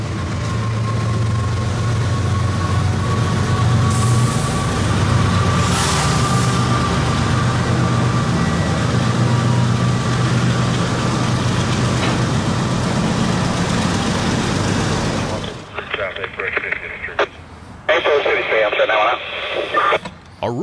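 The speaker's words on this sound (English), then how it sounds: "K915 is an empty hopper train headed to Miami's Chrome Quarry for more Florida lime rock." An empty CSX hopper freight train, bound for a lime rock quarry in Miami, Florida, rumbles past close by. The loud, continuous rolling roar lasts about fifteen seconds, then falls away into quieter, intermittent noise.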